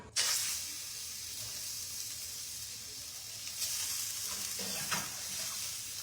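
Chicken frying in a hot pan, a loud steady sizzle and hiss throughout with brief bursts of crackle and spatter, close and with no talking.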